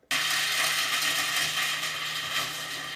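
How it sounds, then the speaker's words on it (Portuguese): A kitchen blender whirs at high speed mixing whole citrus fruit with the peel on, starting abruptly and holding a loud steady grinding drone for a few seconds. "E aí a gente coloca tudo no liquidificador."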